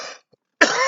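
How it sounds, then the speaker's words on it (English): Two sharp, close coughs from a person, separated by a brief silence, loud and dry with no talk around them. "I don't have a smoker's cough at all."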